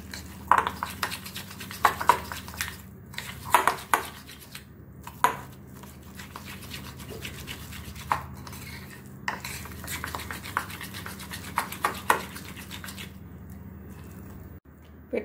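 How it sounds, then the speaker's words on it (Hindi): Nankhatai dough mixture being whisked by hand in a bowl, giving repeated scraping, clinking strokes of utensil against the bowl at an irregular pace, close and fairly quiet, with no talking. "अच्छी तरह से मिक्स करके 5 मिनट्स ऐसे फेंट लेना पड़ेगा"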